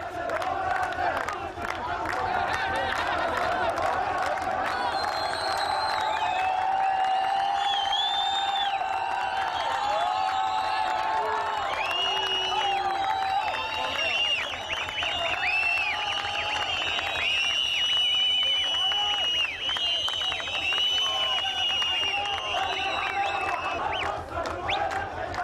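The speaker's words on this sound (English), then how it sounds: "Thousands of Iraqis swarmed the streets to celebrate the end of the dictator's rule." Large crowd of Iraqis celebrating in the streets of central Baghdad, a dense, continuous roar of cheering and shouting voices with whoops and chanting rising and falling throughout, loud and close.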